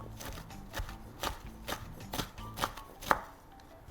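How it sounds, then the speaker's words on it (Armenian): A knife chops basil on a cutting board in a run of about eight fairly regular, crisp taps, quiet and close, with no voices. "Բեյզելի կտրատում եմ։"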